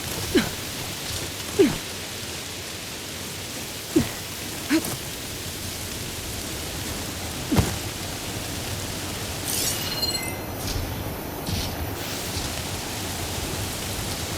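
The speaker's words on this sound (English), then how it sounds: "Just what we need. Wind and rain." Steady rushing wind and rain fill a stormy outdoor scene in Horizon Forbidden West, a dense continuous hiss punctuated by several soft thuds and brief swells, with no voices.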